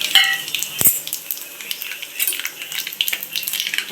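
Cut ivy gourd pieces fry in a pan with curry leaves, giving a soft, steady sizzle close by, broken by a few light clinks and stirring scrapes of a utensil against the pan.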